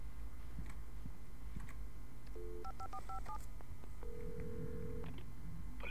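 DTMF keypad tones dial a telephone number in the video game Alan Wake, a string of short paired beeps followed by one longer tone, heard over a steady low background hum with no talking.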